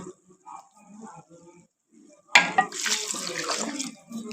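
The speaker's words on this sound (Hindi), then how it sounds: "अब हम डालेंगे इसमें पानी" A glass of water splashed into a pan of frying potatoes and peas for aloo matar, a sudden loud gush and bubbling sizzle after a quiet stretch, sustained and close.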